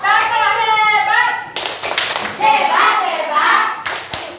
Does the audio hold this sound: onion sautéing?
no